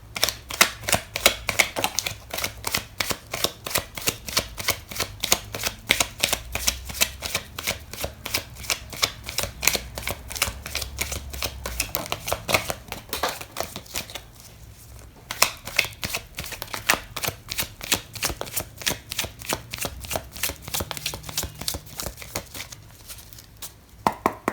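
A tarot card deck is shuffled close up in a long run of rapid, crisp riffling flutters, with a short pause partway through before the shuffling resumes.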